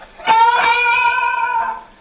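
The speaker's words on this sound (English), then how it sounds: "if I reverse the phase of one of the pickups, it goes very trebly." An electric guitar with one pickup phase reversed, giving a thin, trebly tone: a couple of picked attacks then a sustained, bright, nasal note that rings loud and clear with no talk.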